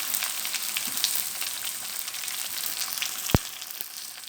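Tender eggplant and potato pieces fry in groundnut oil tempering, giving a steady, close, crackling sizzle with one sharp knock partway through.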